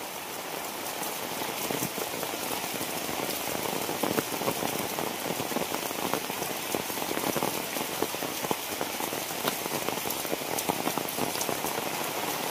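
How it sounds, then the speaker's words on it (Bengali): Heavy rain pours steadily onto a flooded village road, a dense, even hiss of drops splashing on water, loud and constant throughout with no voices. "এবারকার বছরে যত বৃষ্টি হয়েছে সবচেয়ে আজকের বৃষ্টি ভয়াবহ।"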